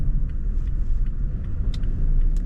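A manual third-generation Toyota Tacoma pulls along in first gear, its engine giving a loud, steady low rumble inside the cab, with a few faint clicks and jingles on top.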